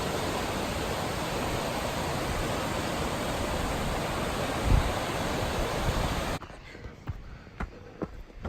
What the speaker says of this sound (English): Come up on that waterfall.